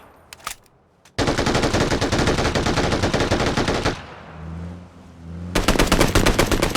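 Rapid automatic gunfire in a shooter video game rattles in long, dense bursts, loud and close, with a few isolated shots first and a short lull between the two main bursts.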